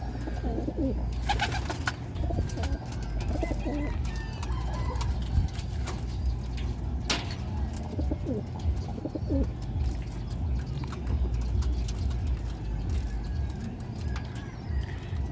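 Racing pigeons coo softly in a low, steady murmur in their loft over a constant background hum, with a few brief chirps and flutters scattered throughout.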